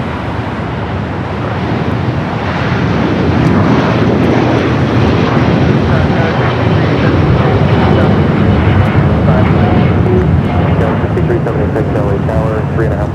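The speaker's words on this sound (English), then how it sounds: "the Dreamliner heading back to Tel Aviv, now rocking and rolling down 25 right" A Boeing 787 Dreamliner bound for Tel Aviv takes off down runway 25 right at Los Angeles International, its loud, steady jet roar swelling and holding close, with voices heard faintly beneath.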